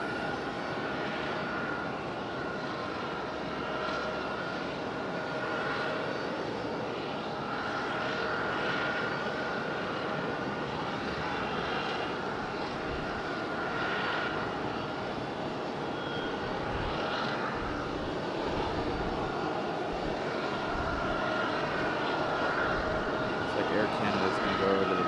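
An American Airlines airliner approaching to land at Raleigh-Durham International Airport, a distant steady engine roar that swells slightly, heard under a voice talking.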